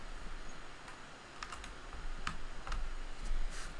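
Typing on a mechanical keyboard fitted with keycaps: a handful of separate key clicks, sparse and irregular, close by over quiet room tone.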